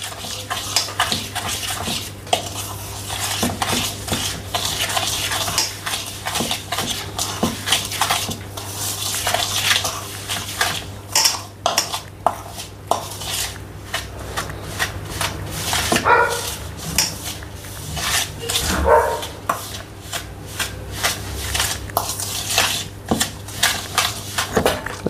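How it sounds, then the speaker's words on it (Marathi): Nankhatai dough is whisked by hand in a bowl, giving a continuous quick scraping and clinking of utensil against the bowl, close by, with a dog barking now and then in the background. "तर आता याला मी हातानेच फेटून घेणार आहे।"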